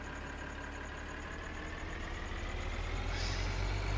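A green tractor's engine drones steadily in a farming video game, a low continuous rumble with a faint whine above it that swells slightly toward the end.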